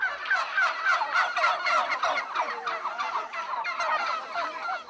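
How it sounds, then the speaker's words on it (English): Turkeys gobble continuously, a dense, rattling chorus of several birds close by, loud and steady throughout with no talk. "the plump India hen began its reign as master of poultry farms"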